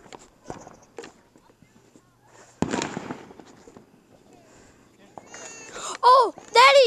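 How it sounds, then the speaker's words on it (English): Distant fireworks pop and crack in a few scattered bursts, one louder thump midway, while children's voices talk and shriek over them near the end. "did you see those fireworks all the way back there? Oh, that scared me."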